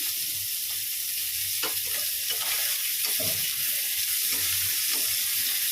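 Chicken, onion and green chilli frying in oil with black cumin seeds, a constant close sizzle with scattered clicks and scrapes of stirring, no talking.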